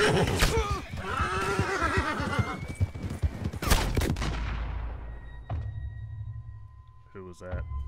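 Sniper gunshots in a western video game, a few sharp cracks amid horse whinnies and hoof clops, with voices talking over the game sound before it quiets to a low hum.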